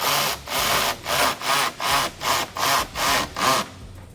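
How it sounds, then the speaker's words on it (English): Electric ratchet driving screws into the front lip of an S650 Mustang during an RTR lip install, making about eight evenly spaced, close, loud rasping bursts before cutting off. "So I'm just using the electric ratchet"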